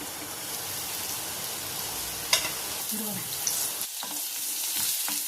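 Chayote pieces with garlic, ginger and salt cook covered in a pan over low heat for chutney, giving a soft, continuous sizzle broken by a sharp metallic clink midway and a quieter tail at the end.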